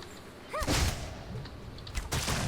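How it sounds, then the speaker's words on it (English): Gun fire from the archer's gun in the game Archeage, a sharp burst with whooshing energy followed by a second strong blast about a second and a half later, loud and alone without talk. "Use the archer's gun."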